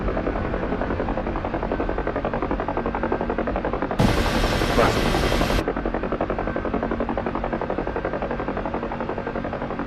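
Helicopter hovering in a search and rescue video game, a steady, loud rotor and engine drone throughout with a brief brighter whine midway, no talking.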